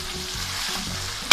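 Thick-cut peeled potato pieces sautéing in masala for aloo matar curry, a brief steady sizzle with stirring, ending in a sharp louder scrape or clatter near the close.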